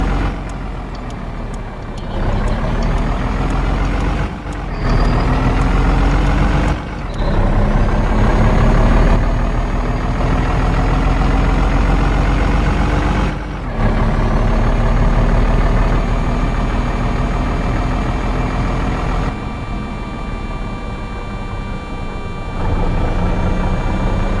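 A Tata truck edges through a busy Indian city road, its diesel engine droning loudly and steadily, broken by several brief pauses and air-brake hisses, with high beeping tones in the traffic around it.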